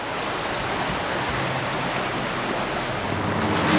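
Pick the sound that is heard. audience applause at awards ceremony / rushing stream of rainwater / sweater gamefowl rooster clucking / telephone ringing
rushing stream of rainwater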